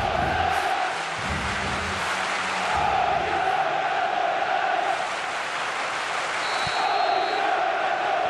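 Stadium crowd in a simulated Serie A football match between Catania and Inter, a steady roar of cheering and chanting from supporters on both sides that fills the whole stretch without letting up.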